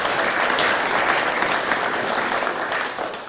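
Audience at a Plan Bay Area 2040 public workshop in Mill Valley applauding honorees, a full, continuous wash of clapping that thins slightly toward the end.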